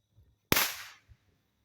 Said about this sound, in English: We got another firework coming.